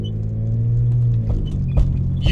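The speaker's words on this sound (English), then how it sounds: "Listen to that exhaust." Deep, steady rumble from the exhaust of a BMW N52 inline-six with up to 215 horsepower, close and loud, a continuous low drone with slight swells and a brief burst near the end, no talking.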